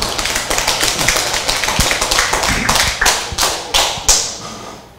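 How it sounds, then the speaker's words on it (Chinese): Scattered individual claps from a small audience welcoming a lecturer to a Taiwanese legal-studies class, sharp separate slaps that grow sparser toward the end. "请掌声欢迎，谢谢。"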